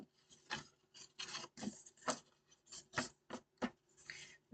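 A paper trimmer slices through a stamped card in a crafting setup, giving a series of short, quiet rasping strokes in an uneven rhythm, close by and with no talk.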